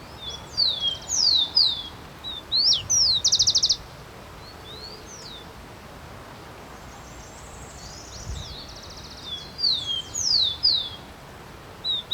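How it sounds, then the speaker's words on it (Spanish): A rufous-collared sparrow sings in a subtropical forest park, repeating short clear whistled phrases with a trill in bursts, fairly close, over a soft steady rustling background. "un chingolo muy tranquilo vocalizando"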